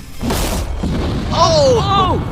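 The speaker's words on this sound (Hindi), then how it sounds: "आगे हम एक पूरे के पूरे गांव को एक क्रीपर धमाके से उड़ाने वाले हैं" A Minecraft creeper explosion gives a short booming burst near the start, then voices continue over a steady low rumble.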